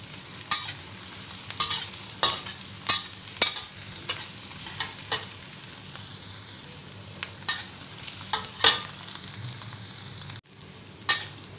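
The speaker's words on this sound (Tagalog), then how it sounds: "Kailangan natin ipa-brown muna yung mag-golden brown yung sibuyas at bawang." Chopped onions and garlic frying in a pan until golden brown, stirred repeatedly; a low background sizzle punctuated by a regular series of sharp scraping strokes of the spatula against the pan.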